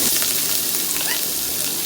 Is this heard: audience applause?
no